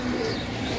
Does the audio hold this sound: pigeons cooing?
yes